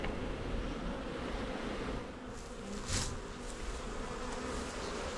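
Honey bees buzz in an opened, smoked hive of a strong colony, a steady dense hum close by with a brief louder swell near the middle and no talking.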